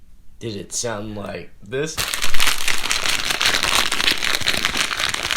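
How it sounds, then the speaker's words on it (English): A plastic baggie holding mic sound absorbers crinkles and crackles continuously right up close, loud and busy, following a brief spoken question. "So I'm like playing with this bag."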